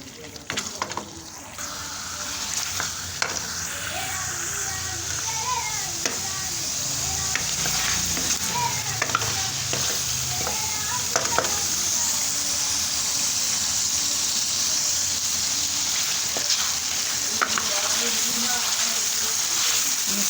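Masala for aloo paneer sizzles and fries steadily in a pan while being stirred, a continuous close hiss with scraping and clinking of the spoon throughout.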